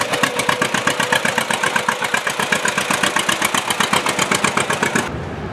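An old John Deere BR tractor engine runs close by at a steam and gas show, a loud, steady, rapid putt-putt exhaust beat that cuts off abruptly near the end.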